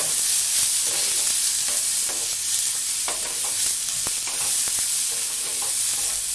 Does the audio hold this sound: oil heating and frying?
yes